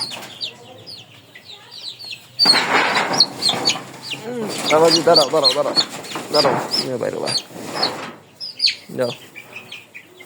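Several 24-day-old Sonali chickens cluck and chirp nearby in bursts, with a person briefly speaking among them.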